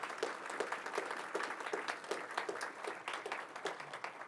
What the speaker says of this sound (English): So I'd like a round of applause for the cafe staff and for Alex.